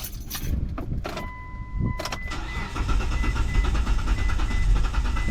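A car engine being cranked for a diagnostic test, with a brief chime and clicks before the starter churns and the engine catches into a steady, close running rumble, no talking.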